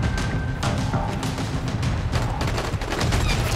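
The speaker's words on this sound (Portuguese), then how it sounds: "Só que é muito tiroteio, né?" Dense gunfire from the video game Dying Light: The Following, with rapid overlapping shots and bursts that sound loud and continuous over a busy combat background.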